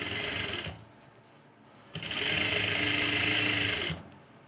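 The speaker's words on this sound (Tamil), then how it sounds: "அந்த 1/2 இன்ச்சில் அப்படியே ஸ்டிச் போட்டு வந்துடுங்க." A sewing machine stitches the lining of a puff sleeve half an inch from the edge, running in two close, steady bursts with a short pause between them, and no voices are heard.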